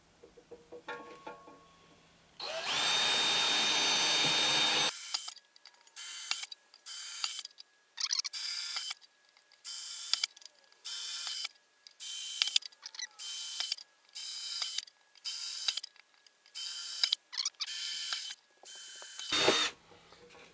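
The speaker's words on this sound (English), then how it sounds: "we will begin the drilling of the pilot holes" A power drill bores pilot holes in a metal amplifier chassis for a Vox AC30/4 build: one long whirring run, then a series of short, sharp drilling bursts separated by brief silences, close and loud.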